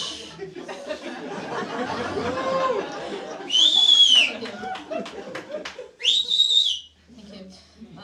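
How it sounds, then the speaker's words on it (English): A loud, shrill whistle from an audience member at a stand-up comedy show sounds in two bursts, each about a second long and separated by a few seconds, over crowd chatter, laughter and a comedian's talking. "Thank you for whistling."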